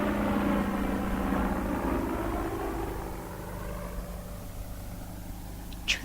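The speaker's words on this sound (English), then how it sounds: "Keep still, it's a helicopter." A helicopter drones overhead in a radio drama, a loud low rumble that gradually fades away as it passes, with no talking.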